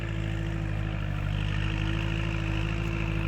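A farm tractor engine runs steadily at a low, humming idle with a constant drone and faint clatter, continuous and fairly near throughout.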